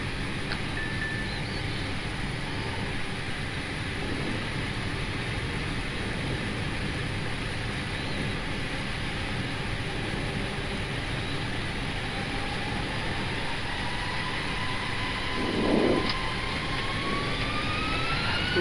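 A jet airliner's engines spool up during takeoff, a steady, loud roar with a low rumble and a high whine heard from inside the cockpit, continuous throughout with no talk.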